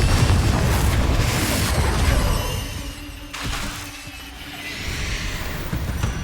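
Confringo blasting spell going off in Hogwarts Legacy, a loud booming burst with shattering crash followed by softer rumbling debris and a second sharp blast, with no talking.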